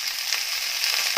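Potatoes stir-frying in hot oil, a brief bright sizzle with light scraping stirs, close and alone.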